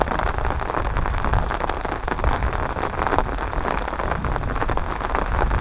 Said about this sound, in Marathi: ते बघा सगळा पाऊसच पाऊस